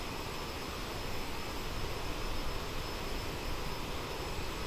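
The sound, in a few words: Aerosoft CRJ-900 rear-mounted jet engines heard from outside, flight simulator game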